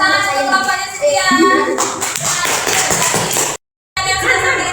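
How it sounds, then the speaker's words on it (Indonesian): Children in a classroom clap hands together during a computational-thinking lesson with a Blockly game, brisk bursts of clapping mixed with kids' voices and a teacher talking, briefly interrupted by a silent gap. "Tepuk tangan untuk bapaknya sekian."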